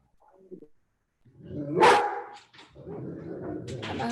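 A dog barks once loudly and nearby, indoors, followed by softer yips and whimpers, with room noise continuing after.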